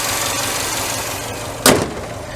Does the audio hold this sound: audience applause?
no